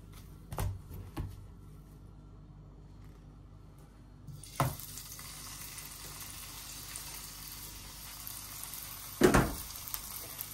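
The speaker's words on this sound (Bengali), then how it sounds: "কুমড়াটি ভেজে নিতেছি।" Pumpkin frying in a pan gives a soft, steady sizzle that starts partway through and stays faint, broken by a few sharp clanks of a utensil against the pan.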